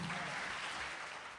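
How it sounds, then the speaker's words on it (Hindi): Loud, steady applause from an audience at a children's elocution competition and mushaira in Ichalkaranji, filling the whole short stretch with no voices over it. "इन बच्चों के लिए जोरदार तालियां हो जाएं।"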